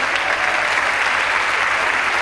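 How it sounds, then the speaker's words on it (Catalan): An audience claps loudly and continuously in a dense, steady wave of applause for the participants of a collaborative music performance, with no gaps or voices standing out. "arriba el moment de fer un fort aplaudiment a tots els participants d'aquest projecte col·laboratiu"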